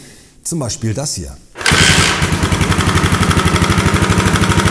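A Yamaha SR500 motorcycle engine runs steadily with a fast, rhythmic rattling pulse from a rattling fault, loud and close, following a brief spoken phrase.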